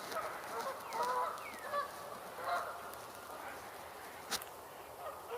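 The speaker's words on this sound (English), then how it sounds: "I hear mallards." Distant ducks calling outdoors, identified as mallards, a few soft honking quacks rising above steady background noise with faint speech-like murmurs.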